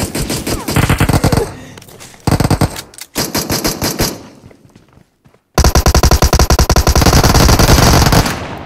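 Rapid bursts of pistol gunfire from the video game Zoo Squad, loud and close, in dense runs of shots broken by a brief silent gap before the firing resumes even heavier.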